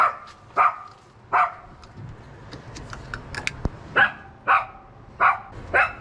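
A dog barks in a garage during a 1967 vehicle rebuild, eight sharp, fairly loud barks in two clusters separated by a quieter stretch with faint clatter, no talking.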